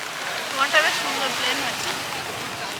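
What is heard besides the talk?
rain falling at the beach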